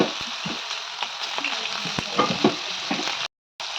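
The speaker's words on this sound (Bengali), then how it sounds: "তো আমি সবজিগুলোকে কিছুক্ষণ ভেজে নেব, একটু ভালো মতো করে ভেজে নেব।" Vegetables frying in hot oil, a steady broadband sizzle with occasional stirring clicks and scrapes, close and continuous, briefly cutting to silence near the end.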